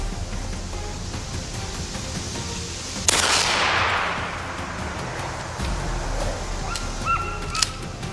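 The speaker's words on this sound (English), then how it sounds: "The second shot rang out." A single loud gunshot aimed at a charging wild boar cracks out and decays slowly across the open ground, with faint bird calls and rustling around it.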